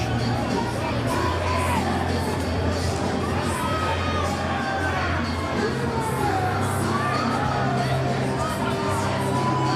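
A fired-up crowd at a Friday night independent wrestling show in Hialeah, Florida roars steadily throughout, with whoops and shouts rising over a dense, continuous wash of noise.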